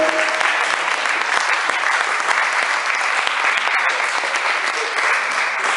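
A church congregation applauds and acclaims Jesus with loud, continuous clapping that fills the room from start to finish, and cheering voices blend into the sound.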